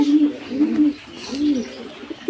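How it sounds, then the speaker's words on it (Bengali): Caged pigeons coo close by in soft, repeated throaty phrases, several rounded coos rising and falling over a couple of seconds with no talking. "আমাদের কবুতর দুটো কেমন হয়েছে"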